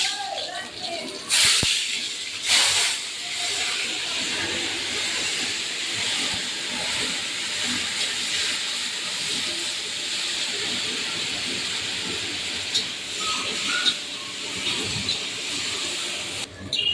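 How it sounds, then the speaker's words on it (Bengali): Onions frying in oil in a home kitchen, producing a continuous hissing sizzle close by that holds steady for the whole stretch, with brief louder bursts. "পেঁয়াজগুলো ভাজা হয়ে এসেছে"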